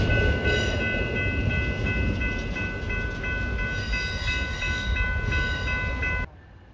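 A long intermodal freight train with a mid-train DPU rolls steadily past nearby in Minot, North Dakota, a continuous rumbling roar with high metallic squeals and wheel noise, ending abruptly.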